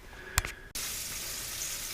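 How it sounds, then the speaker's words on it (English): Crappie fish frying in a pan on a propane camp stove, a sharp clack followed by a sudden, steady sizzle that fills the rest of the moment, close and fairly loud. "fish in the frying pan"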